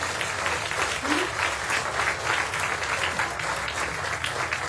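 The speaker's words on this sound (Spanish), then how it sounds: "Un aplauso a los compañeros de Honduras." Applause from a seminar audience thanking guests from Honduras, a steady wash of clapping holding at an even level throughout.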